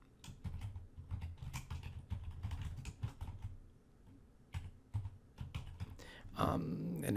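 Typing on a computer keyboard, with quick clusters of close, crisp key clicks that pause briefly and resume, ending in a short louder burst of handling noise.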